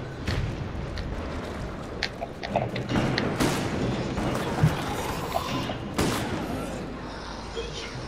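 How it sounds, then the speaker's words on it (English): In the video game Resident Evil: Operation Raccoon City, a thrown grenade detonates amid scattered gunfire, with several dull booms and sharp cracks spread over a busy combat background. "I just threw a grenade in there and prayed for hope for the best."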